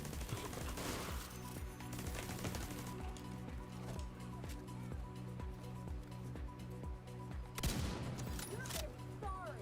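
Automated turret opening fire in The Division 2, a steady rapid stream of gunshots running throughout with a louder burst near the end, set against layered game music and ambience.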